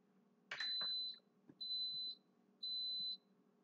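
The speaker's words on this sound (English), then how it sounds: "Now you heard that three little beeps?" An electric pressure cooker emits three evenly spaced, clear electronic beeps as it starts up, each about half a second long, after a soft button press.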